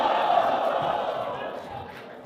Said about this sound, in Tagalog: O di ba sigawan yung tao?